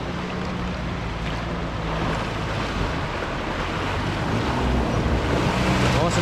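A vehicle drives through a river crossing on Cape York, with water rushing and washing steadily around it and wind buffeting the microphone throughout, a continuous loud churn with no clear talk.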